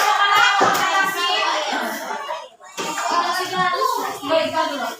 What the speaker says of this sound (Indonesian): Beri tepuk tangan untuk kelompok Leci.